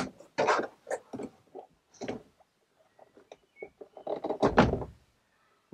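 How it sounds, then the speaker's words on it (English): Trim panel on the front door of a VW camper being pried loose and pulled away, giving a series of close, irregular scraping rasps and plastic-on-metal thumps with short pauses between. "pull the bottom of the door card out and then pull it up"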